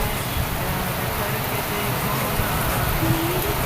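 A constant downpour hisses loudly and evenly, with faint traffic rumbling underneath.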